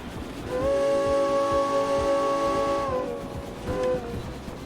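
A steam locomotive whistle in the Derail Valley train game sounds one long steady blast, then a short second toot, over the rumbling chug of the moving train.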